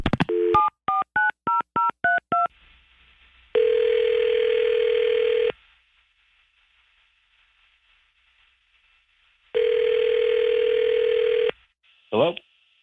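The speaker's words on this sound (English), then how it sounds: "All right, let's go ahead and call him." Telephone call being placed from a radio studio: a rapid run of touch-tone dialing beeps, then two long ringback tones separated by silence, ending with a brief click or voice as the line connects.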